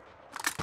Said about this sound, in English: Changing mag.